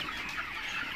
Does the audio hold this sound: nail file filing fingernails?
no